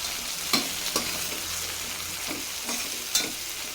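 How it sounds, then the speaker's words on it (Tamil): Onions with mint and coriander leaves sizzle steadily in hot oil for chicken biryani, with a spoon stirring and scraping the pan in several sharp strokes over the constant frying hiss, close and alone. "இப்போ வெங்காயத்து கூடயே இதை நல்லா வதக்கி விட்டுருங்க."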